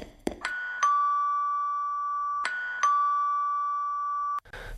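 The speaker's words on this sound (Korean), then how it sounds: "초인종이 울리고" A doorbell chimes twice, each a clear two-tone ding-dong that rings out and sustains before fading, set against a quiet background with a faint clatter at the end.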